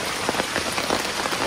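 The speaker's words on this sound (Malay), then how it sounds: "Okey, time hujan." Heavy rain pouring down at a family campsite in Perak, a dense, loud, continuous patter of drops striking surfaces close by, with no voices.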